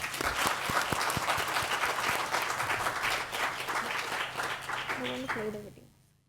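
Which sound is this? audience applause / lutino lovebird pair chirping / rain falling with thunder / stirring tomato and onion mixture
audience applause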